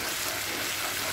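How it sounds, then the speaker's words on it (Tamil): Ginger garlic paste fries in a pan for potato paal curry, a dense steady sizzle filling the short stretch without any speech. "இப்போது இஞ்சி பூண்டு ஆட் பண்ணுவோம்."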